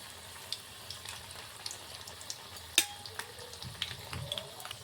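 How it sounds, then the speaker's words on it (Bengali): Crispy onion pakoras fry in hot oil as they are turned over, giving a quiet, steady crackle with a few sharper pops and no voices. "ঠিক উল্টে পাল্টে এইভাবে আমরা পেঁয়াজিগুলো আমরা ভেজে নেব।"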